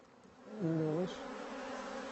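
Saharan yellow honeybees hum at an apiary, a faint background drone with one louder buzz as a bee passes close for about half a second.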